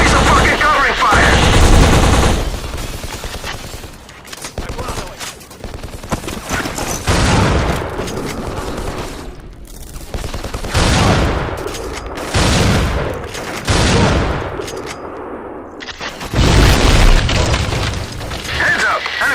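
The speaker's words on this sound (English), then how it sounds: "Give me some fucking covering fire." Gunfire and explosions in the Xbox shooter BLACK: loud bursts of automatic fire and heavy booms come in repeated volleys with brief lulls, while a voice calls out over the combat.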